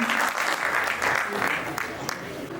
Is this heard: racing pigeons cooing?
no